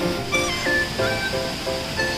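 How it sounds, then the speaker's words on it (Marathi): Savdav Waterfall in Kankavli, Konkan, heard from its upper side, where water pours down with a steady, loud broadband rush, and a faint tonal sound drifts over it. "ही जो धबधबा आहे त्याची वरची बाजू आहे आणि हा इकडून वरून येतो"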